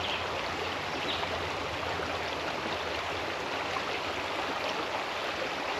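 A river stream flows steadily beside someone collecting water outdoors by a trout river, a dense, continuous rushing wash heard up close with no speech.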